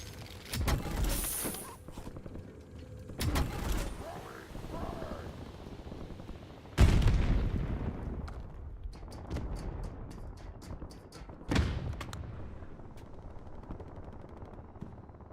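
Automatic gunfire in the video game Call of Duty: Warzone: several loud bursts erupt seconds apart, with quicker rapid cracks in between, over a constant game-ambience hum and occasional voices.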